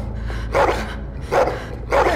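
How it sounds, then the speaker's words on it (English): A dog in The Walking Dead: Final Season video game gives three barks, evenly spaced about every 0.8 seconds, loud and close over a steady low game-ambience hum. "Puppy!"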